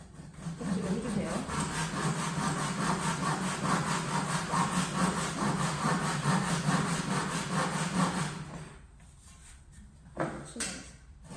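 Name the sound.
hand saw cutting wood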